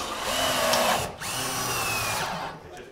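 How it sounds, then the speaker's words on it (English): A power drill whirs steadily while driving a screw into wood, close and fairly loud, with a short dip in pitch midway before it winds down. "Two more screws coming down through these."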